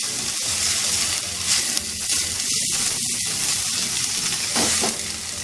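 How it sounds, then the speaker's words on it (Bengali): Salted potato pieces fry in a pan with a dense, constant sizzle and hiss, with a few soft stirring scrapes mixed in, close and even in loudness. "এটাকে আমি 2 মিনিট মতো একটু ভাজা ভাজা করে নেবো।"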